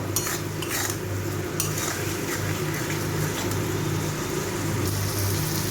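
Masala is stirred and sautéed with a splash of water in a pan for a tangra fish curry: a continuous soft sizzle with scraping and light clinks of a spoon, over a low steady hum.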